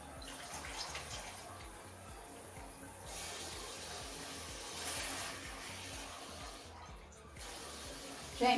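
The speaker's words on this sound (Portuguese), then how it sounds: "a água vem com muita pressão" Tap water running at high pressure in a home kitchen, a steady loud rushing spray with small shifts in flow, continuous throughout.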